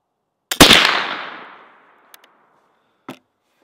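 A .32 caliber flintlock rifle fires once at a 25-yard range, a quick double crack of pan flash and main charge. A long ringing decay follows, then faint clicks and a short, sharp knock near the end.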